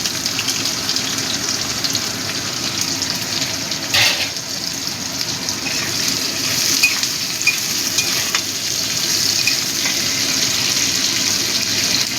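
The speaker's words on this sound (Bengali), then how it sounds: "এবার দিয়ে দিচ্ছি কুচিয়ে রাখা পেঁয়াজটা।" Chopped onion fries in hot oil with bay leaf for a mutton keema curry, giving a steady close hiss of sizzling with one brief knock partway through.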